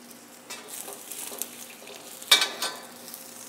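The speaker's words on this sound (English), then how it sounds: "Swirl it, smoke it, add the green beans. Put it back on the heat." Green beans added to a smoking hot steel wok with a little oil give a soft steady sizzle, with a sharp clattering scrape of the pan partway through, close and fairly quiet.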